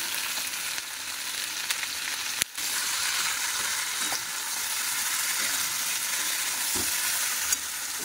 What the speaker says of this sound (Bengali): তো চলো এটাকে ভেজে নিয়ে আসছি লবণ হলুদ দিয়ে